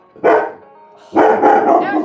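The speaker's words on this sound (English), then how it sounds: "Ashley, no barking." A dog barks indoors in a kitchen, two loud, close barks about a second apart, the second one longer and rougher, with a voice speaking around them.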